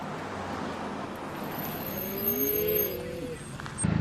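A Polaris Ranger XD 1500 UTV fitted with an EVP exhaust rumbles from behind with a steady low engine drone and a brief rising rev, while faint voices talk nearby.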